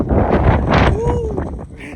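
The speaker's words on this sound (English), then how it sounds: "pretty windy up here" Gusty wind buffets the microphone at the summit of Mt. Whitney, a loud, steady rumble with voices and a brief whistling tone over it.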